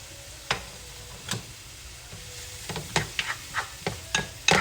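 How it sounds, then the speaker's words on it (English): Finely chopped onion sautés over medium heat in a pan, with a quiet background sizzle broken by a run of sharp utensil clicks and scrapes as it is stirred, growing more frequent toward the end. "Now I'm just going to stir this up until it sautés."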